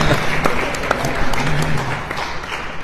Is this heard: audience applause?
yes